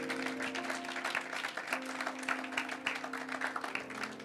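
A church congregation applauding in praise, a steady wash of many hands clapping at moderate distance, lasting throughout without a break.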